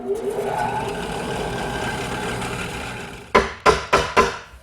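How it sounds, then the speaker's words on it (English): A drill bores a stretcher hole in a handmade wooden Windsor chair, giving a steady, close whirring grind for about three seconds, then four sharp, evenly spaced knocks. "let's drill it"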